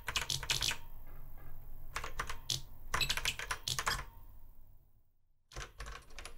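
Crisp clicking keystrokes on a ZX Spectrum keyboard, close and alone, coming in quick bursts of typing separated by short pauses, with a near-silent gap before a final run.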